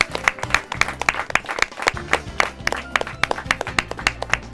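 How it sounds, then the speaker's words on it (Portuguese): Audience applause for the finalists of a Portuguese-language competition final round, with lively, uneven clapping from a modest crowd and sharp individual claps throughout. "Uma salva de palmas para todos eles."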